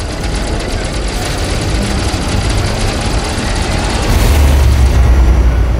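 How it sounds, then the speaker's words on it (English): A Guardian pylon rises out of the ground in the Elite Dangerous space game, a deep rumbling grind under a constant mechanical drone that swells louder and heavier near the end. "you can hear the pylon coming out the ground, and there it is"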